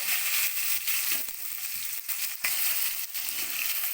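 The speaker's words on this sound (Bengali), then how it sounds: "হলুদ দিয়ে আমি আলুগুলোকে ভেজে নেব" Potatoes frying in oil with a little turmeric, a steady close sizzle with brief dips and occasional light clatters, no talking.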